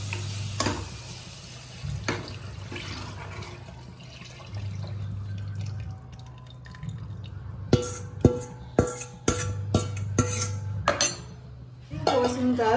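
Buttermilk curry with coconut and gram flour being stirred in a pot, a spoon clinking and scraping against the metal in a steady run of bright taps that grows busier toward the end, over a low hum.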